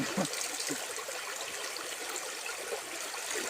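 River water flowing and trickling at a spot used for washing laundry, a faint, steady babble of moving water close by.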